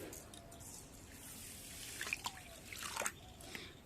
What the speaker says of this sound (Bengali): খুব ভালো করে চটকে চটকে চালটাকে ধুয়ে নিতে হবে।